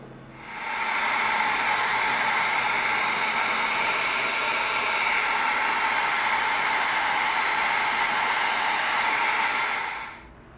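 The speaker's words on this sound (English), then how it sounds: "Now we're just going to heat seal all those." A heat gun heat-seals cut EVA foam pieces, its steady loud blowing hiss ramping up, holding constant for several seconds, then cutting off.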